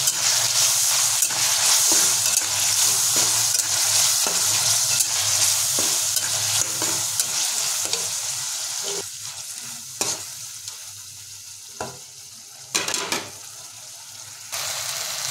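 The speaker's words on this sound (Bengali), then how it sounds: "এখন আমরা এটাকে খুন্তি দিয়ে টমেটো আর আদা পেস্টটাকে প্রায় মিনিট 3 ধরে লো ফ্লেমে কষিয়ে দেবো।" Tomato and ginger paste being stirred and sautéed with a spatula over a low flame for a vegetarian jackfruit curry, giving a steady close sizzle with scraping strokes throughout and a few sharper scrapes near the end.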